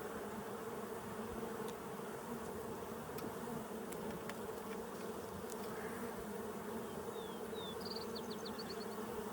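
Steady, dense hum of many honey bees buzzing close by in a hive in Colorado, continuous and even, with a few faint higher-pitched whines drifting over it.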